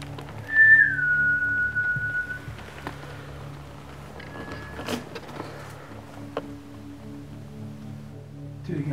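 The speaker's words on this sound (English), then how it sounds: "sure I heard a whistle" A short, clear whistle rises and then slides down near the start inside a dark old theatre, followed by quiet ambient hum and a few faint clicks.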